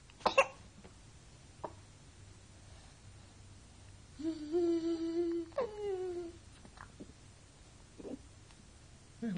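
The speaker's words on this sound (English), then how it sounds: "Hiccups." A child hiccups a few times in a quiet room, short separate squeaky catches spread across the moment with small noises between them.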